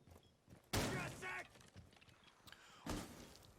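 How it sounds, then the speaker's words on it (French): Gunfire in a Rainbow Six Siege match as an operator is shot down in a corridor fight: two loud sharp bursts separated by quieter thuds and game noise, with a commentator's voice faintly underneath. "Valkyrie qui va tomber sous les balles de VX."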